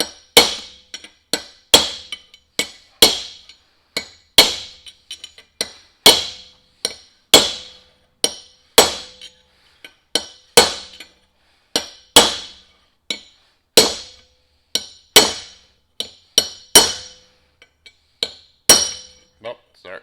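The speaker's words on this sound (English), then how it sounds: "You'll hear when it gets down, because it'll sound solid." A right front wheel hub on a Mack Cruiseliner truck is driven into place by a steady series of sharp metallic hammer blows, ringing and evenly spaced, with no talk.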